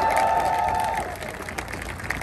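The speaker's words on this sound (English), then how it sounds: "Can we get a round of applause for all these great candidates that have joined us tonight?" A crowd at a Liberal campaign office event applauds candidates, a brief burst of clapping that fades into lighter scattered claps within two seconds.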